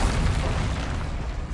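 A spell explodes in Hogwarts Legacy, a short broadband boom with a rumbling burst that stays dense and loud before tapering slightly, with no talk.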